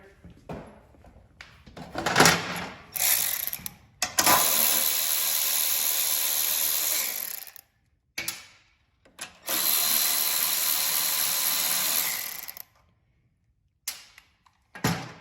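A power drill or impact driver works out two 10 mm bolts from the carburetor of a Craftsman 31AM6CSG793 snow thrower, with two long close whirring runs, brief bursts, and clicks and clunks of handling between them.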